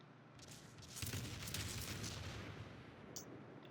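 Rapid naval gunfire from a Des Moines heavy cruiser in World of Warships, a dense cluster of booming shots and crackling blasts rolling together, fairly loud and sustained, fading slightly toward the end.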